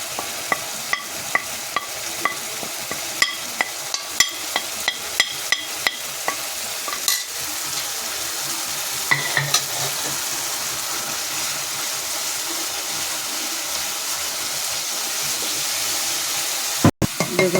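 Tempering masala stirred and frying in a little oil over boiled lentils, a continuous close sizzle broken by repeated sharp scrapes and taps of a spoon against the pan, then a steadier hiss.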